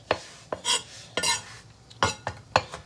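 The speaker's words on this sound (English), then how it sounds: "So now I'm just going to give these rosemary needles, a good chop" A knife chops rosemary needles on a cutting board in a home kitchen, giving sharp, separate knocks at an uneven pace, about six clear strikes, close and alone with no talking.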